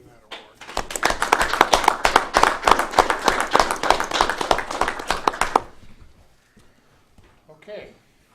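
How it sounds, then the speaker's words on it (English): City staff receive applause at a city council meeting: a round of crowd clapping builds quickly, stays dense for about five seconds, then trails off into scattered claps and quiet room noise. "let's give our city staff a round of applause for receiving that award"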